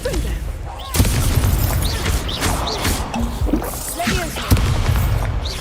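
Confringo spell blasts in the Hogwarts Legacy video game on hard mode, heavy booming explosions at about one second and again near four and a half seconds over a dense, rumbling battle bed with chirpy magical effects.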